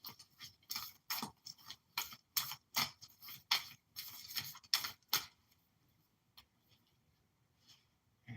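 Tarot cards shuffled by hand during a late-night reading, a run of crisp, rapid riffling bursts at a steady rhythm, close and fairly loud, stopping partway so that near silence follows.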